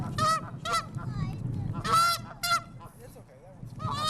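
Waterfowl at the Greenway give repeated loud, nasal honks in short bursts, some near and some farther off, over outdoor background noise.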